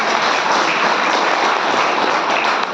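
Steady, dense applause from an audience at a health talk session, a continuous wash of clapping hands at full volume with no break.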